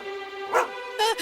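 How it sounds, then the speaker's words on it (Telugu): Wild dogs bark in a cartoon, two short, close, voiced yelps with a steady tonal hum underneath. "అరే అడవి కుక్కలు హనీ మీద అటాక్ చేస్తున్నాయి"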